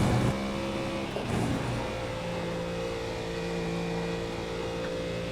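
A race car engine in the iRacing sim at Spa roars at high revs, dipping briefly around a gearshift before holding a loud, steady tone through the rest of the run.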